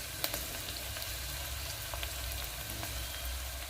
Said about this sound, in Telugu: ఇప్పుడు కొద్దిగా కరివేపాకు వేస్తున్నాం